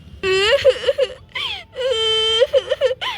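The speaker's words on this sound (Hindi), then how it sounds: "अरे भाभी, बच्चे के रोने की आवाज तो देखिए उधर से आ रही है।" A baby cries loudly and close by, wailing in long drawn-out bursts broken by short whimpering sobs.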